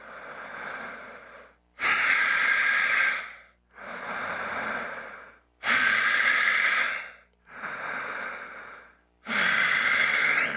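Slow, deliberate breaths during a tai chi exercise, close and soft, alternating long airy inhales and exhales in an even rhythm with short silent pauses between.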